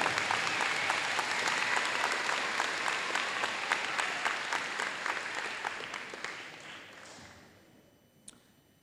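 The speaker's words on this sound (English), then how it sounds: "Give them a round of applause." A school audience applauds students honoured at a Challenge Scholars awards event: dense, steady clapping that gradually thins and fades away, ending with a single faint tap.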